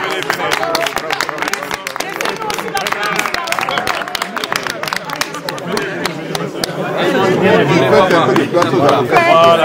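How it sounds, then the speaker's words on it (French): A crowd applauds and chatters as lawyers arrive at a public gathering. Scattered claps sound steadily through loud, dense babble, and the clapping and noise swell toward the end. "On applaudit. On applaudit."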